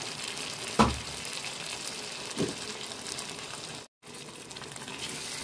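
Potatoes dropped into sizzling masala in a pan for a halwai-style mixed vegetable sabji, giving a sharp burst of frying at the start, another splash-like flare midway, then a steady close crackle throughout, with no voices.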